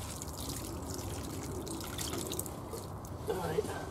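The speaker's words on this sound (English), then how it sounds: "give it some water." Water pours and drips onto a potted purple dahlia at an allotment, a soft splashing trickle under a nearby voice talking.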